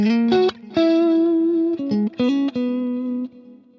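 Electric guitar played through a delay effect on an amp sim, sustained melodic notes with repeating echoes trailing after each phrase, clear and close with no talking.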